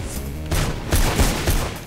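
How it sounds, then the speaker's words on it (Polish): Several heavy rifle gunshots in the video game Mirror's Edge ring out in quick succession, booming and echoing one after another over a rumbling background. "Mają karabin."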